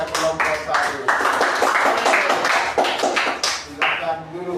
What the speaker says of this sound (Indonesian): Kita beri tepuk tangan kepada kelompok 1.